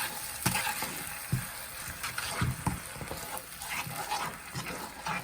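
Szechuan sauce with sesame oil being stirred and cooked in a pan, a steady sizzle with scraping and clinking of the spoon throughout, close and fairly loud, no voices.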